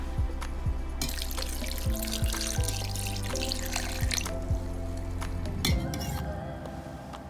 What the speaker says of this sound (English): Next, let's add our milk.